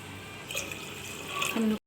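Water pouring into a pressure cooker, a short splashing stream that rises in pitch as the pot fills, then cuts off abruptly.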